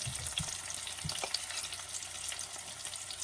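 Chilies dusted with gram flour frying in oil, giving a continuous close sizzle with a couple of low stirring knocks near the start.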